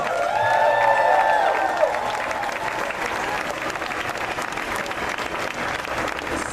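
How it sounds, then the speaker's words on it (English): Crowd applause and cheering at a DOMA rally celebration, dense clapping with a few whoops, strongest at first and then settling into steadier clapping. "give yourselves an enormous round of applause"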